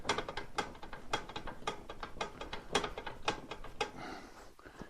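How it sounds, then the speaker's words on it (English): A Titan airless spray gun's aluminum fluid section being tightened during a rebuild of an 840i, 840ix, 1140i or 1140ix, giving a fast, steady run of close ratcheting clicks that thin out near the end. "just pin it and then continue to tighten the fluid section"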